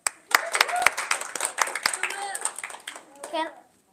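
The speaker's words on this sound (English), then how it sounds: "let's give a nice round of applause for Will" Audience applause for a presenter at a talk event: scattered, uneven claps from a modest crowd, fairly close, with children's voices chattering over and between the claps before fading out.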